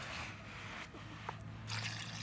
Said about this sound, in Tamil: நண்டு வேகிற அளவுக்கு தண்ணி ஊற்றி விட்டுப்போம்